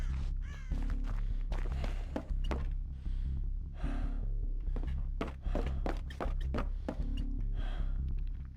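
Crows cawing and flapping as they take off in the video game Dead by Daylight, a rapid series of harsh caws and wingbeats, loud and close, with thudding knocks mixed in.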